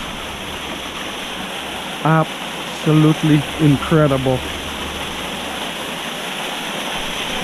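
The Snir River flowing: a constant, full rush of water fills the scene throughout, with a person speaking briefly over it in the middle.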